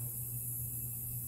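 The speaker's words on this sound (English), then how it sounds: "You might even hear in the background a humming." Steady low electrical-hydraulic hum from an MTS 810 tension/compression testing machine's hydraulics warming up, continuous and fairly quiet throughout with no speech.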